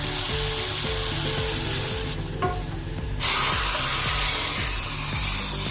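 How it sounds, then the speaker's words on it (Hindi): Loud, close sizzling of tadka spices hitting hot chana dal, a broad hiss that dips briefly and then surges back, steady to the end. "दाल में डाल देंगे अपना तड़का।"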